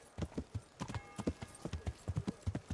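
Steady, close clip-clop of a horse's hooves in the medieval game Kingdom Come: Deliverance, with a brief faint whinny and no talk over the even rhythm.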